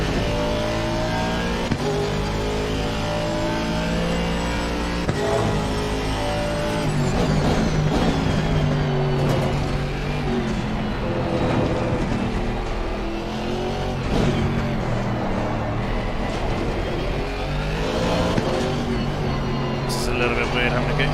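A GT3 race car engine in the game Assetto Corsa Competizione drones and revs through gear changes for the whole stretch, loud and steady, while a commentator talks over it.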